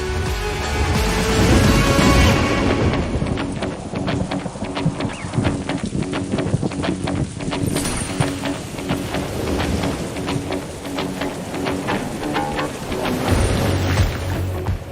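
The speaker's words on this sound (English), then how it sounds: "It started pouring rain, which was actually very magical" Heavy rain pours down, a dense hiss with sharp patters striking nearby surfaces, loud and unbroken throughout.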